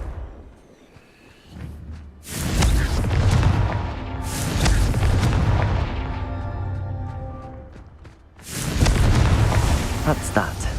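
A Confringo fire spell bursts in the Hogwarts Legacy video game, heard as loud booming explosive blasts with a sustained rumbling roar that swells, eases, then erupts again near the end, with game speech and effects mixed in.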